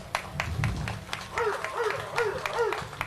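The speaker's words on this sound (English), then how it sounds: "Please give him a round of applause." Audience applause at the Miss Caribbean Universe 2026 pageant as a lieutenant governor is introduced, a steady wash of clapping lasting a few seconds with a faint voice carrying over it.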